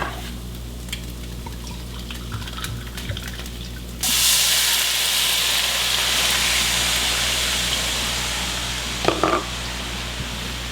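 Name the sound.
brandy poured into hot skillet, sizzling and reducing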